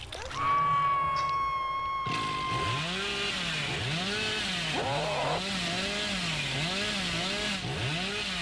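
A chainsaw wielded by a killer in a video game whines steadily, its pitch rising and falling in repeated swooping revs over a constant mechanical drone, loud and sustained.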